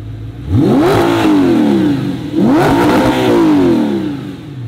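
Two sharp throttle blips from a naturally aspirated V8 supercar, each climbing fast to a howl before dropping back to a burbling idle, loud and close with no talk.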